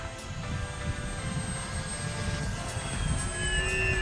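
An X-fly Twin Otter 1800mm RC model plane flies past with a steady whining motor and propeller hum that shifts slightly in pitch as it moves, heard alone without talk.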